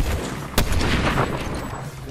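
A single sharp gunshot cracks out in a Fortnite-style battle royale video game, one loud, brief report amid steady background game noise.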